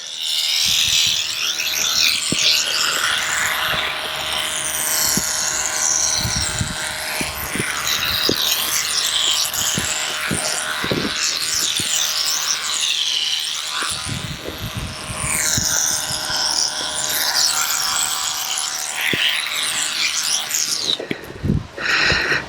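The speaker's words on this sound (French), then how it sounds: "Simulation avec du bruit, simulation de tondeuse." A steady, harsh simulated lawnmower buzz drones on continuously, loud and close, during horse groundwork training, with occasional clicks and knocks underneath.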